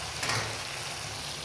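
Ginger, garlic and tomato paste sizzles in a hot pan while duck curry is cooked, a dense steady frying hiss, close and continuous with no talk.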